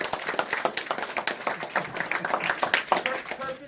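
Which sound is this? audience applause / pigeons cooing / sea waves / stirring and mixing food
audience applause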